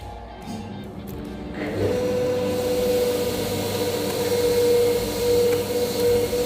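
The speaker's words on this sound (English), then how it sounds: "he's just sanding off everything, getting those edges nice and clean on the belt sander" Belt sander working the edges of a piece of wood in a woodworking shop: after a few seconds of low shop noise the motor starts up into a steady, loud whirring drone with a sustained tone that holds to the end.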